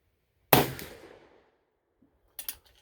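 A single loud gunshot from a .44 caliber #2 Remington rolling block rifle cracks sharply nearby and rings off, followed about two seconds later by a pair of quieter mechanical clicks.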